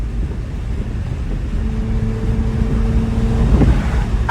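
BMW E46 M3 engine heard from inside the car while driving, a steady low drone with a sustained tone rising slightly before a brief bump near the end, no talking.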